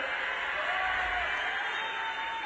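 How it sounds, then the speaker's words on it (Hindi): Crowd applauding at an outdoor political election rally in Kurseong, a dense, steady wash of clapping at constant loudness with a faint sustained tone running through it. "जोर से ताली बजाइए जरा।"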